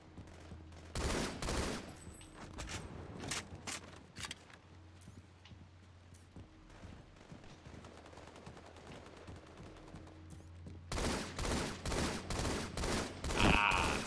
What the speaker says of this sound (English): You hear those sniper rifles going off